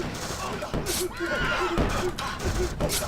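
Horses whinnying amid thumps and clattering hooves in the video game Battle Ages, with a person talking over the busy, noisy mix.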